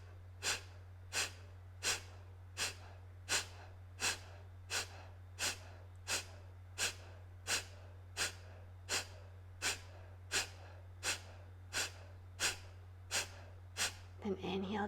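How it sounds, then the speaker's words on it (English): Rapid yoga breath of fire, sharp rhythmic nasal exhalations pumping at a steady, even pace, close and clear over a constant low hum, about twenty quick bursts before a final longer breath. "Continue this breath of fire."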